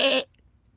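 A person imitates a goat bleat with one short, nasal, wavering vocal bleat up close, cut off sharply and followed by quiet.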